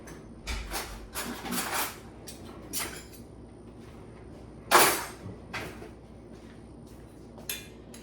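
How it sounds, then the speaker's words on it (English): In a home kitchen while tiramisu is being made, a drawer slides and a spoon is fished out. A few sharp metallic clinks and rattles come close, then a loud clatter, a softer knock and a last faint tap. "Let me get a spoon."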